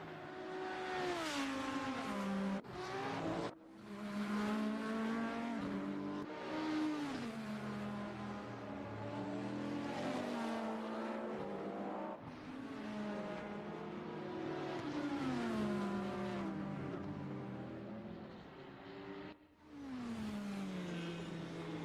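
A race car engine in a sim racing game at Interlagos revs hard through the gears, rising and falling in repeated sweeps with brief dips at shifts, loud and continuous.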